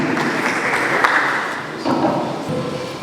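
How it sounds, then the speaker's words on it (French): Applause from a seated press-conference audience welcoming the Vodacom director, a dense steady wash of many hands clapping, fairly close and continuous throughout with a slight surge partway through. "Sur les applaudissements, mesdames et messieurs, l'accueil du directeur."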